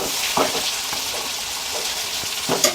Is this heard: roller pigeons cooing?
no